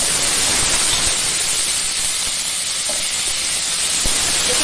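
Potatoes added to hot tempering oil in a pan for a cauliflower and potato dish, a constant close frying hiss and sizzle with a few faint clicks, no talking.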